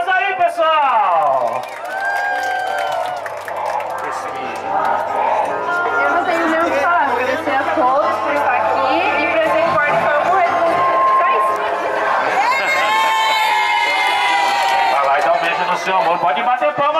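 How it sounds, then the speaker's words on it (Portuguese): Party guests at a birthday celebration in a park clap and cheer together with loud whoops, under a dense layer of shouting voices and chatter throughout. "Pode bater palmas aí, pessoal!"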